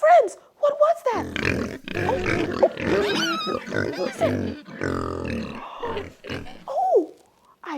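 Pig grunts and oinks heard in a farm-animal setting, several rough calls scattered through the clip, mixed with a voice imitating or speaking over them and bursts of other sounds.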